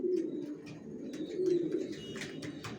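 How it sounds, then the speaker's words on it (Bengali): Racing pigeons in a loft coo softly in low, rolling repeated calls, several birds overlapping at close range with faint chirps above. "অরিজিনাল রেসার, জনসনের লংয়ের, সব লংয়ের কবুতর পালি"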